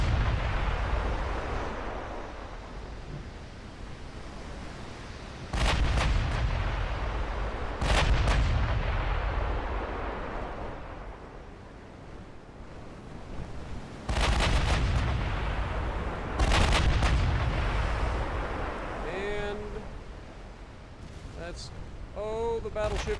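Naval secondary guns fire in Ultimate Admiral Dreadnoughts, booming in several heavy, spaced blasts over a constant low rumble of battle, with a few faint tonal chirps near the end.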